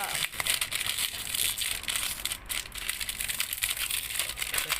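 The heating pack of a self-heating instant noodle cup is torn open and handled up close, making busy crinkly plastic rustling and crackling throughout.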